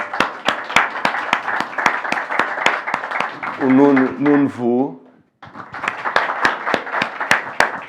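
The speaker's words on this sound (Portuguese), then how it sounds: "Palmas para ele, por favor." Applause for a magazine editor at a launch event, with sharp claps ringing out steadily before and after a short burst of speech that briefly interrupts it.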